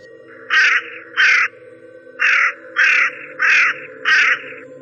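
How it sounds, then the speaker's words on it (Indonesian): Crow cawing in a ravine along a mountain hiking trail, six loud harsh caws in two groups, each caw fairly long and evenly spaced, heard alone over a faint steady drone. "Suara gagak itu terdengar lebih panjang."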